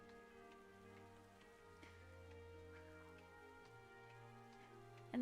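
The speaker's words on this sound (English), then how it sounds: "And the rain falls." Rain in the Pokemon Violet video game patters softly and steadily beneath sustained musical tones.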